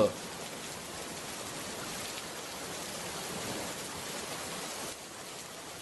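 Steady rain hisses continuously, a dense even wash of falling drops that holds for the whole stretch and eases slightly near the end.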